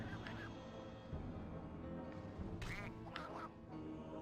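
Ducks quack repeatedly in the PSP game MediEvil: Resurrection, their calls rising in short bursts above a steady, dense game soundscape with no talking.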